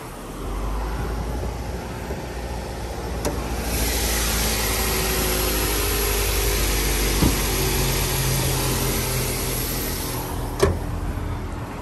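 A 2005 Ford Focus SE with a four-cylinder engine, automatic transmission and 159,000 miles idles steadily nearby, a continuous even hum with a few faint clicks and no voices.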